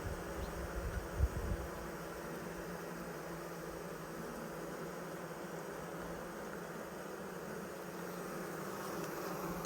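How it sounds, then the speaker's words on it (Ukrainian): A swarm of honey bees clustered on hive frames gives a dense, steady humming buzz that stays close and even throughout, with one brief knock near the start. "Так, ось рій, матка є"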